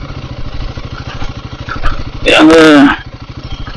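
A motorcycle rides a winding mountain road returning from Yercaud, its engine chugging steadily and loudly throughout, with someone speaking briefly partway through over the engine noise.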